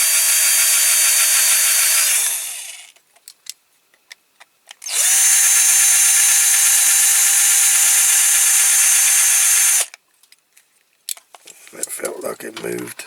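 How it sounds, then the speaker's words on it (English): A power drill with a blunt bit whines in two long bursts separated by a pause with faint clicks and scraping, then brief rustling handling noises, while restoring a Dinky Austin Taxi No. 254 toy. "So I'll have to carry on with a bluntish drill"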